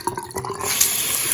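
Cold water running from a newly installed bathroom faucet into a sink, a few splashy bursts settling into a steady close hiss of flowing water.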